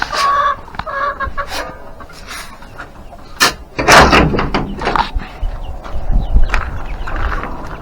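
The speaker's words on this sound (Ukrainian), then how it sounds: "Зараз кину нашим курям трішки пшениці." Chickens cluck and squawk close by in a farmyard shed as wheat grain is thrown to them, busy irregular calls mixed with a door knocking and rustling movement.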